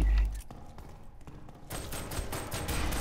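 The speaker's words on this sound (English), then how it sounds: "It's a pistol, actually." Gunfire in the shooter game F.E.A.R. 3: a rapid burst of pistol shots, loud and close, followed by a steadier run of shots over game noise and some voice.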